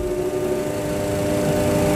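Boeing 737 Classic jet engines spool up to takeoff power on the runway during a crosswind takeoff, a steady, loud, continuous roar with a strong sustained tonal hum and no gaps.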